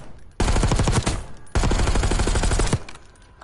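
Two long bursts of rapid automatic fire from the AMES rifle in Black Ops 6, loud and close, each lasting over a second with a short gap between, no talk.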